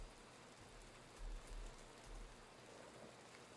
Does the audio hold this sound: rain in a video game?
yes